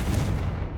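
A Confringo blasting spell explodes in Hogwarts Legacy as a short, dense, rumbling burst that fills the whole moment at close range.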